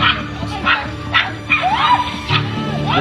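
A small dog barks and yips in quick sharp bursts played back from a leashed dog attack video, several high yelps spread across the moment over a low hum.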